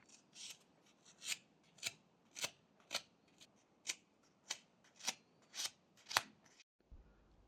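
A knife carves V-cuts into a small wooden reindeer figure, giving about a dozen crisp, evenly spaced scraping strokes up close in a quiet room. A short dull knock follows at the end.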